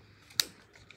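A single sharp mechanical click from a camera shutter fired with the lens removed, close and isolated against a quiet room, followed by a much fainter tick.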